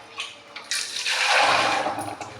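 Running water splashes and gushes in a short burst, swelling loudly then easing off, close by as if from a tap onto something being rinsed.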